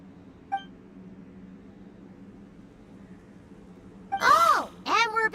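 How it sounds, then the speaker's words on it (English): A machine in the Genshin Impact game gives a short beep, then after a quiet gap a pair of louder warbling electronic chirps follows, close and clear. "Oh, and we're back to beep beep again?"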